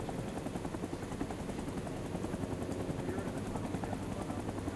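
A helicopter in the video game Rising Storm 2 drones with a steady, rapid rotor thump and engine whine, loud and continuous with no talking.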